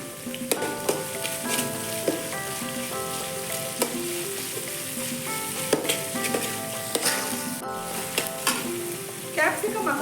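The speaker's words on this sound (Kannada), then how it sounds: "1 ಹಿಡಿಯಷ್ಟು ಈರುಳ್ಳಿ ಹಾಕೋತಾ ಇದ್ದೀನಿ." Thinly sliced onions fry in hot oil for restaurant-style gobi manchurian, a loud continuous sizzle with crackling spatter and repeated metallic clangs of a spatula stirring against the pan.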